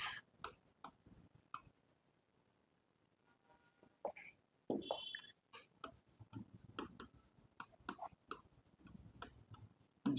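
A pen scratches out handwritten notes for a Hindi grammar lesson in short, quiet, irregular strokes and taps, with pauses and no talking.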